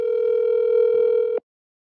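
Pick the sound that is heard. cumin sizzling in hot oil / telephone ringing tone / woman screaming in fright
telephone ringing tone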